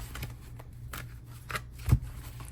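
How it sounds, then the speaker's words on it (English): A large deck of cards is shuffled by hand, giving a few short riffling bursts and soft flutters spread across a couple of seconds over a quiet background. "we're going to shuffle a little bit"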